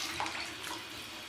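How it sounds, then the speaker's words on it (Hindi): Water is poured from a bowl into a pot while cooking chicken biryani, a short, soft splashing rush that is quiet and close. "एक और कटोरा पानी का डालूँगी"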